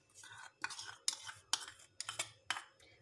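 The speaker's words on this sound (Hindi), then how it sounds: "और इसको अच्छे से हम मिक्स कर लेते हैं" A spoon stirs a milk and cream mixture with about six short, rhythmic scraping and swishing strokes, close and fairly quiet.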